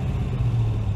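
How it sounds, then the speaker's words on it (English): A car engine idles through side-pipe exhaust, giving a steady low, even rumble close by, with no talk for the full second. "Really nice sounding exhaust, of course, with the side pipes."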